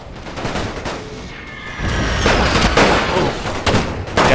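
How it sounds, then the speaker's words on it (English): A WWI video game battle at Verdun, with heavy field artillery shelling positions amid rifle and machine-gun fire. Dense, rolling bursts of gunfire swell into louder booming volleys, continuous and close. "he still has artillery over on this side, the heavy field artillery, just kind of shelling our position."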